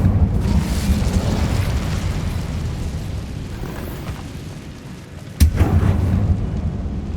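Incendio fire spell bursts in Hogwarts Legacy, a continuous rumbling roar of fire and magic that swells early, dips, then snaps into one sharp loud blast near the end before the roar resumes.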